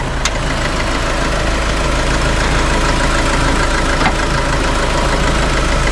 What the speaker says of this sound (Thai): แล้วก็ตัวเครื่องยนต์นะครับ